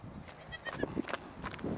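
A goat held by a girl in Nepal gives several short, close bleats in quick succession, fairly faint against the outdoor background.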